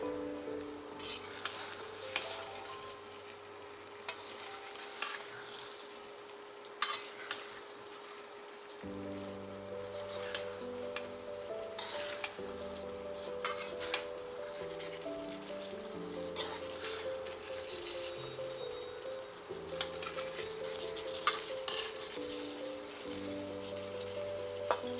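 Eggplant and potato stir-fry in a pan with a faint sizzle and repeated scraping, clinking stirs scattered over soft background music.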